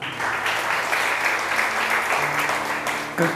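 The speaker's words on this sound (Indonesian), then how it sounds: "Tepuk tangan buat Tuhan." A church congregation claps for God during a service, a loud, continuous burst of many hands with a sustained musical tone or hum running underneath and a slight swell at the end.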